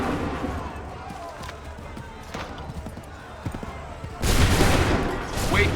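Musket volley gunfire in the game Assassin's Creed 3 Remastered: scattered loud cracks under a steady battle din, then a heavy, dense burst of massed shots near the end, with voices shouting in the mix.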